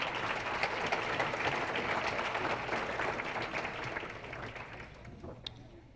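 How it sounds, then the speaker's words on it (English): A school sports banquet crowd applauds for coach Danielle, dense even clapping that holds steady and then gradually thins out near the end. "One more round of applause for your coach, Danielle."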